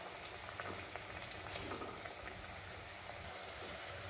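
Coated Maggi noodles frying in oil until golden, a steady low bubbling crackle with scattered faint pops, continuous and fairly quiet throughout.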